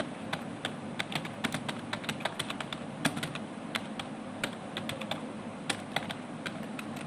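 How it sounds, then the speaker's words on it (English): A computer keyboard being typed on while entering a Linux command, with irregular close key taps and clusters of clicks running continuously over a quiet room background. "I will just retype the command"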